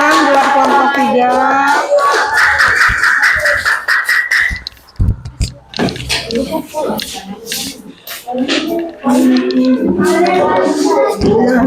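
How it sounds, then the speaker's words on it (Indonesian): A classroom audience gives a short burst of applause for a student group after its presentation, scattered claps rising between stretches of nearby talking. "Tepuk tangan buat kelompok 3."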